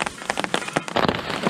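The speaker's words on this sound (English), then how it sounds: "and it's still raining" Rain patters steadily on a hammock campsite tarp and gear in autumn woods along the Loyalsock Trail, a dense, close wash of drops with a few sharper taps, no voices.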